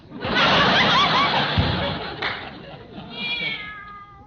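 A cat meows indoors in a drawn-out, wavering cry, heard close and fairly loud, with people talking and chuckling around it.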